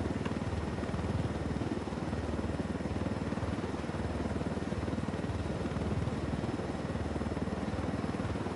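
A helicopter in the video game Ghost Recon drones steadily with a low rotor throb, moderately close and continuous, with no speech over it.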